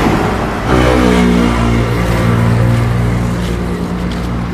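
A motorcycle engine drones loudly and steadily close by, its low rumble swelling briefly as it revs during a driving lesson, with no clear talk over it.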